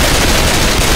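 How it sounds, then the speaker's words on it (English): Dense, sustained automatic gunfire from the zombie shooter Left 4 Dead 2, a loud unbroken barrage of rapid shots filling the whole second with no voices over it. "Stop shooting me!"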